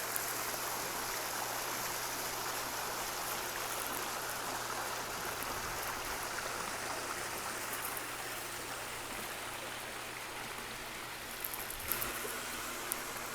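A backyard pool's rock waterfall feature runs in a steady, even rush of splashing water, soft and continuous for the whole stretch with no voices.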